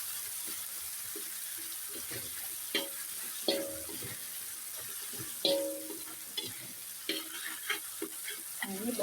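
Eggplant sambal with candlenut, chili and garlic is stirred in a pan, a soft steady sizzle under repeated scraping and clacking strokes of the utensil at an irregular rhythm, fairly quiet and close.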